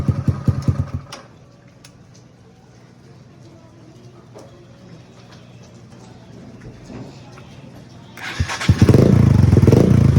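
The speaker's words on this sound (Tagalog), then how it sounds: "Andar na. Electric start." A motorcycle engine runs briefly and cuts out. After a quiet stretch, the electric starter cranks on a recharged battery and the engine catches, roaring loudly up close.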